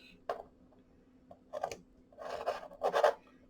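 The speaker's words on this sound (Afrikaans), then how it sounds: "Ek gaan hom net hier sny met my skêr." Scissors snip through paper for an album template, with several short, close cutting strokes that grow longer and louder toward the end, heard alone without talk.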